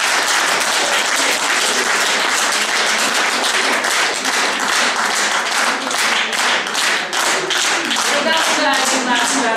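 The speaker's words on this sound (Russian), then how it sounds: "Спасибо вам за аплодисменты." Loud, sustained applause from a concert audience at a veterans' choir performance, many hands clapping steadily and densely throughout, close and full with no break.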